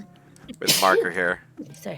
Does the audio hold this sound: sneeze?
yes